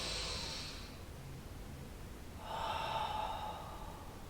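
Slow, audible breaths during a lower back stretch on the floor: a long exhale, a pause, then another drawn breath, close and quiet with no talking.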